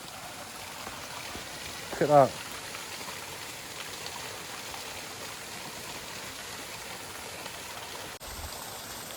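A small hillside stream with little waterfalls runs downstream on a hike from Pixarells to Pollença, making a soft, steady wash and trickle. A person speaks briefly near the start, and a short bird call stands out above the water.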